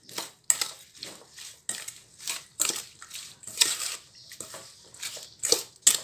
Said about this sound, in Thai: ใส่น้ำกระเทียมดองลงไปนะคะ ใส่ลงไปนิดนึงแล้วคนกัน